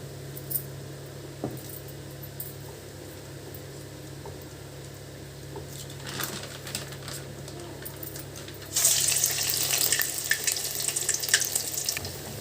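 Urad dal vada batter drops into hot oil, a quiet steady crackle that bursts into louder, brighter sizzling partway through and keeps frying.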